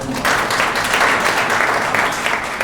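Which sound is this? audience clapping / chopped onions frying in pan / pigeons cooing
audience clapping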